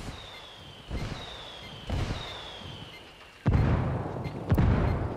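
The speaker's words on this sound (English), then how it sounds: "I called the rebels for some indirect fire" Indirect artillery fire called in from rebel allies in Ghost Recon Wildlands, heard as a series of distant booms, roughly four to five explosions, with a faint whistling tone between the first impacts.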